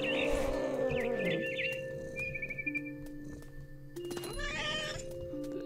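A cat in the video game What Remains of Edith Finch meows and caterwauls several times, with a long drawn-out cry at the start and another burst near the end, over soft ambient music and light chirps.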